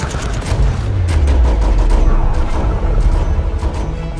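Loud sci-fi gunfire in a Transformers stop-motion animation, with a rapid stream of blasts and a descending whooshing tone in a busy, booming action mix.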